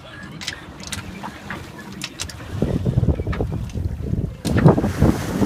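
A single-handed sailboat moves slowly at about 2.5 knots in dying winds, with steady wind rumble across the microphone and soft water sloshing that swells louder near the end.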